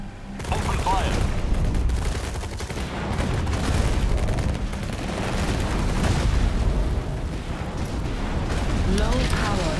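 Units opening fire in the real-time strategy game Tempest Rising, a loud continuous barrage of explosions, booms and weapon fire, with in-game unit voice lines over the battle.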